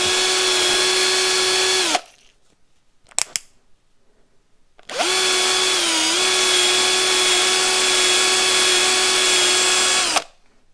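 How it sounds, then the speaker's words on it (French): A cordless drill whines at steady speed, spinning a motorcycle brake pin from a Yamaha FJR 1300 while an abrasive sponge polishes it, in two long bursts split by a pause with a few clicks. "Vous prenez l'axe dans la visseuse pour le faire tourner. On met un petit coup d'éponge abrasive là."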